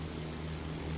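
A low, steady propeller-aircraft drone hums without a break from an enemy plane passing over a First World War video-game battlefield, with no voices over it.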